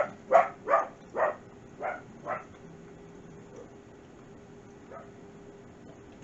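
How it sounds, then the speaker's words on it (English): A small dog barks five sharp times in a quick run, each bark a little quieter than the last, then gives one faint yip after a pause in an otherwise quiet room. "She barks louder than the big dogs do sometimes."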